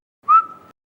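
A single short whistle, rising at first and then held steady for under half a second, clear and alone, with no talk around it.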